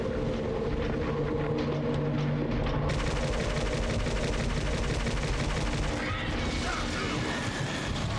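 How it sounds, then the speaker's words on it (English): Assault rifle fire in the PlayStation 2 game Silent Hill Origins, a loud, unbroken stream of rapid shots layered over a dense mechanical clatter and booming low rumble, with no pause. "good old-fashioned assault rifle power"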